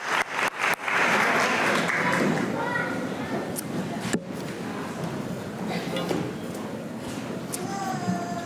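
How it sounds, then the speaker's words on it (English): A crowd at a high school graduation ceremony applauds student band and chorus members, with a burst of dense clapping that thins into scattered claps, voices and room murmur. "Let's give our students in the band and chorus another round of applause."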